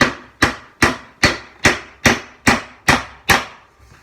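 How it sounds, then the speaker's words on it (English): A heavy hammer drives nails into wood with nine sharp, evenly spaced blows at a steady rhythm, each strike loud and close with a quick ringing decay. "Take my heavy hammer."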